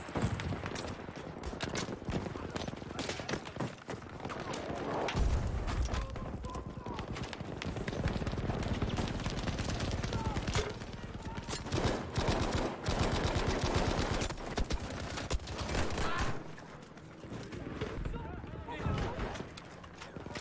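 Bren light machine gun fire in Battlefield V, a Netherlands battle, with bursts of automatic shots rattling through dense, constant game noise and clatter across the whole stretch.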